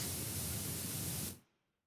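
A cleaning spray hissing in one continuous, fairly close burst of about a second and a half, then stopping sharply and leaving near silence.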